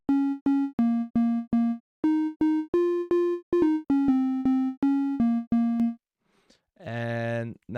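Synthesized house bass from a basic-shape wavetable shaped by envelope 1, a run of short plucky notes in a bouncing rhythm, followed by a brief buzzy burst at the end.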